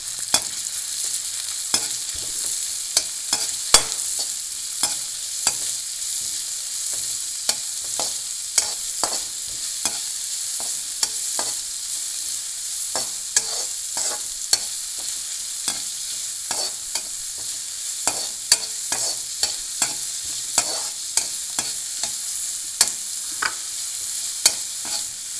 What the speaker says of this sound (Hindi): अब हम इसमें डालेंगे प्याज, इसे हम अच्छे से भून लेंगे।